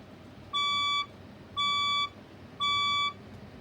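A fire alarm beeps three times in an even pattern, each tone about half a second long with short pauses between them. The beeps are clear, steady and bright over quiet room noise, with no voices.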